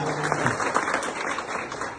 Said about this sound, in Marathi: टाळ्या वाजल्या पाहिजे जोरदार